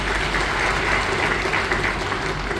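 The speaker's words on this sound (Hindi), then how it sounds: "इनके लिए जोरदार तालियां हो जाएं" Steady, dense clapping from an audience at a gathering, a continuous wash of applause filling the short stretch without pause.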